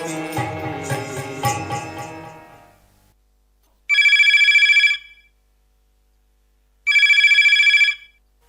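A telephone rings twice on a radio phone-in folk-song show, each electronic ring lasting about a second with a pause between, right after a stretch of music fades out.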